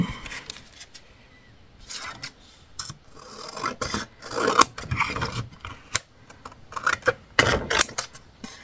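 Scissors cutting paper around a small metal die shape for scrapbooking, heard up close as a run of irregular snipping and rasping bursts with brief pauses between cuts.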